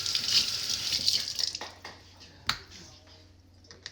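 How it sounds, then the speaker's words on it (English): Hot tap water runs onto raw pork ribs in a kitchen sink, a loud splashing stream at first that thins out, followed by scattered drips and wet handling sounds. "Wash off in hot water first."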